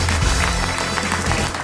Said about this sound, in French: On vous applaudit, Jonas, bravo